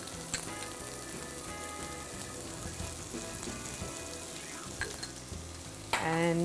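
Baby potatoes sizzle and crackle steadily in a hot pan for a dry Indian potato curry, with a few stirring scrapes and a louder burst of frying near the end.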